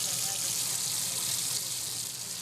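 Running water rinses specially prepared laboratory test tubes used in a urine hormone test, a steady close gush of tap flow filling the short stretch at an even level, with no other sound breaking through.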